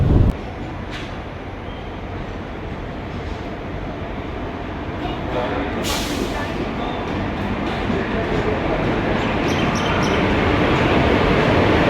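The Kanyakumari-Howrah Express rumbles steadily into a station platform, growing gradually louder as it approaches, with a broad roaring noise and faint squeals of metal.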